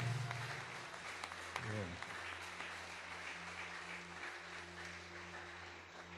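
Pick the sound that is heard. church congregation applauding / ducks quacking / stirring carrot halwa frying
church congregation applauding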